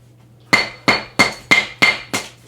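Real concrete is smashed with six sharp, evenly spaced blows in quick succession, each a loud, ringing impact that decays briefly before the next.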